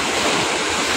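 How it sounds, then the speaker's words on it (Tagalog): Sea waves slapping against a fishing boat on Manila Bay off Navotas, a steady broadband wash of surf and wind noise with no talk. "Nagsashuffle yung alon."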